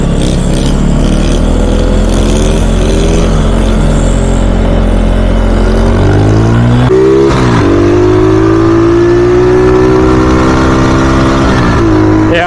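A cheap marketplace pit bike engine revs hard during a wheelie, loud and close, holding a buzzing drone before pitch climbs through several rising surges and drops off near the end.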